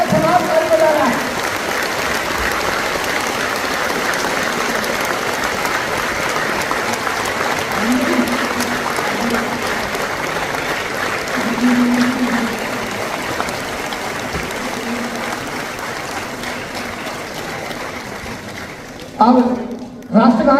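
Loud, sustained applause from a large audience fills a Vigyan Bhawan hall in Delhi at a Constitution Day event, holding steady for about twenty seconds. A voice briefly cuts in near the end.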